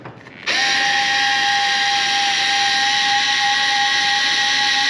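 A power drill tightens nuts while mounting a carbon front splitter on a Cadillac CTS, starting abruptly after a quiet moment and then holding a loud, steady, high motor whine without pause.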